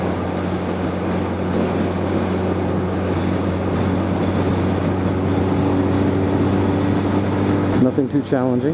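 Honda Nighthawk motorcycle engine droning steadily on a road test route, a continuous loud hum with wind noise, while a rider talks over it.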